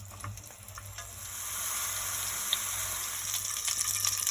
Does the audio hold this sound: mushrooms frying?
yes